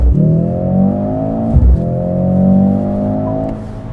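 A Mercedes GLC 63 S AMG with a 680-hp four-cylinder accelerates hard, pitch rising through a gear, a brief shift break, then climbing again, loud and close with no talk.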